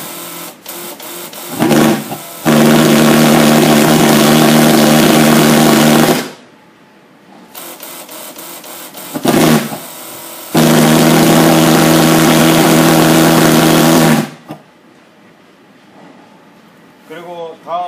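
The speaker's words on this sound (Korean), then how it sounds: "완전히 시켜주시고 난 다음에 다시 정상적으로 시동을 시키면 됩니다" A small engine starts and runs at a loud, steady idle for several seconds, stops, then starts and runs again before cutting off, close by.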